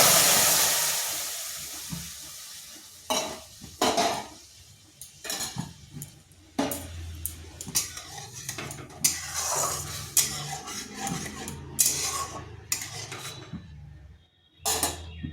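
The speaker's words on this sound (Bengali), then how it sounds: "এরপর পিউরিটা দিয়ে দিচ্ছি।" Tomato puree cooks in a wok with intermittent metallic scrapes and clinks of a spoon against the pan over a soft bubbling hiss, close up and irregular, with no voices.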